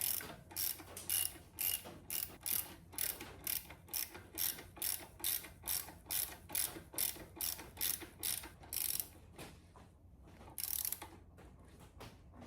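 A ratchet wrench tightens bolts on the water pump of a 1973 Corvette, with rapid, evenly spaced clicking bursts that repeat close up, a short pause, then one last burst, and no voices.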